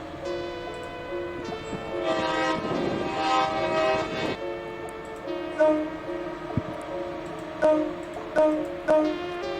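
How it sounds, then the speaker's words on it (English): A train horn sound effect blares in long sustained tones as the train rumbles past, followed by sharp rhythmic clacks and thumps from the rails. "This is the horror train to hell."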